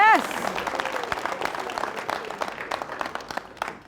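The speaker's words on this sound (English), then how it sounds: "Round of applause." Studio audience on a televised debate show breaks into applause, a short burst of clapping that fades over a few seconds as a voice speaks over it.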